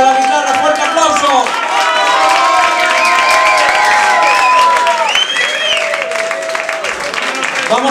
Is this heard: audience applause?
yes